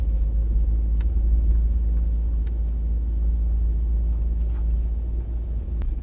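Car engine rumbling steadily from inside the cabin during a driving lesson, with a deep continuous low drone and gentle pickup as the learner eases onto the gas; no talking.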